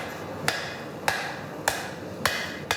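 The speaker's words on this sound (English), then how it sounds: "Take it over the anvil, get your hammer, get ready." A hammer strikes a metal spoon blank on an anvil in five evenly spaced, sharp ringing blows, close and loud against a quiet workshop background.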